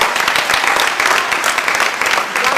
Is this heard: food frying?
no